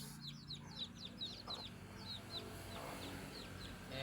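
Chicks peep in quick, thin, high chirps, repeated in clusters at low volume, with a soft hen clucking faintly in the background.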